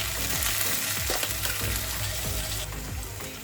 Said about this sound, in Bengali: শাকগুলো তেলের সাথে ভালোভাবে কিছুক্ষণ ভেজে নেব।